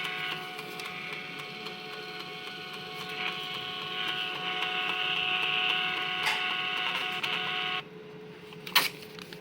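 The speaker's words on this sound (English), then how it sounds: "Printer's obviously functioning." The built-in printer of a Polysoude P4 orbital welder running, a steady mechanical whir with faint tones that goes on for several seconds and then abruptly drops, followed by a brief clack near the end.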